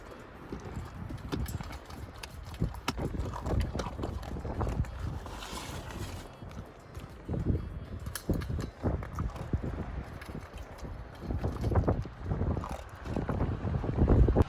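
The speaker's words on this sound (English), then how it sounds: "If you can't tell, it's super windy now" Strong wind gusts outdoors batter the microphone beside a parked Honda CR-V, low rumbling buffeting that rises and falls irregularly throughout, with no talking.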